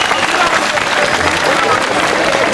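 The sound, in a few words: audience applauding the Sırıklı Sema dance team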